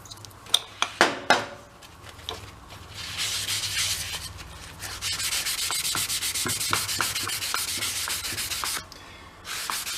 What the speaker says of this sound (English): But let's go get a Scotch-Brite on the top of that. Yeah, a little bit of carb clean.